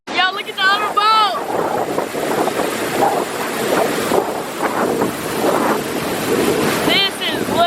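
A boat runs on the Potomac River near the National Harbor waterfront, with waves splashing against the hull and wind buffeting the microphone while people shout and whoop excitedly over it.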